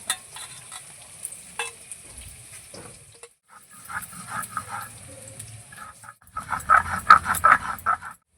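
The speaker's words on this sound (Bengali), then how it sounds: "অর্ধেকের বেশি পেঁয়াজটা ভাজতে দিয়েছি" Onions fry and sizzle in a pan for a chicken curry, a steady hiss broken by stirring scrapes and knocks, with a brief pause and louder crackling bursts near the end.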